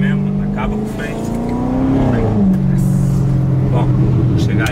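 A sports car, a Porsche 911 or a Corvette, roars loudly and continuously, its engine note climbing and then dropping as it revs, with people talking underneath.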